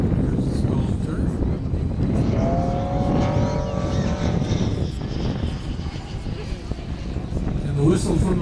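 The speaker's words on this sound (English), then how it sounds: "Get speed up on those flying wires, and they all whistle and howl and make all kinds of racket" A high, thin whistling tone from the flying wires of a 10-foot, 1/3-scale Stearman model biplane with a five-cylinder radial engine rises over the engine drone and wind noise, with people talking nearby at an air show.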